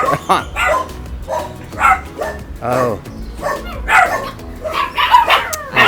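Several dogs bark, yip and whimper in the dog ward of an animal shelter in Zihuatanejo, Mexico, with repeated close, loud barks throughout and people talking over them.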